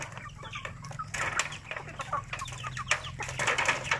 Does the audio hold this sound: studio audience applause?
no